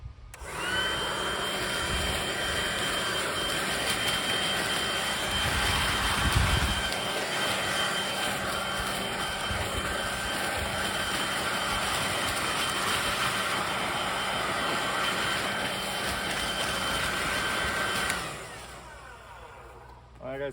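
A Ryobi leaf blower roars loudly and steadily for about eighteen seconds while pushing against a pile of leaves, with a high whine over the rushing air, then cuts off near the end.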